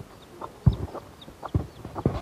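A hen sitting on her eggs gives low, throaty clucks in short bursts, close and soft, with a few thin higher chirps between them.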